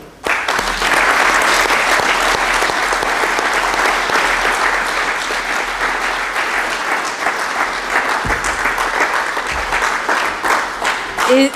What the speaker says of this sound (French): Permettez-moi de vous applaudir.